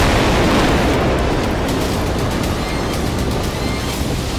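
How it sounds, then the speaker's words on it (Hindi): Anti-tank missile strike on an Israeli armored vehicle, a loud, sustained broadband blast roar with rumbling low end that stays dense and near for several seconds without letting up. "इसराइल की बख्तरबंद गाड़ी को एंटी टैंक मिसाइल से टारगेट किया गया"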